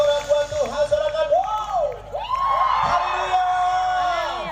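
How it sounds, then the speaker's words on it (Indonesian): Crowd at an outdoor evening worship rally on a field in East Sumba cheering and whooping loudly, a dense, sustained roar of many voices with shrill individual yells rising above it. "Mari bersorak buat Tuhan, sorakan."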